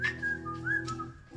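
Whistled melody from a UK drill artist on a song, with sliding pitched notes over a low steady beat and bass, clear and up front.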